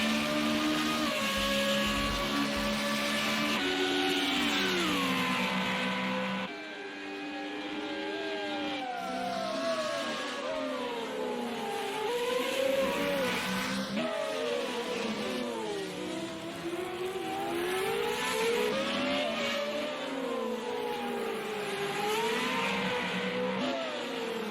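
Formula-style race cars of the FR35 series accelerating on the Long Beach street circuit, a loud, steady engine drone with rising and falling pitch as the cars pull away through gear changes, no talking.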